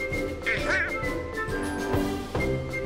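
Donald Duck's squawky, garbled quacking voice from the Kingdom Hearts video game chatters in several short bursts over game music and effects.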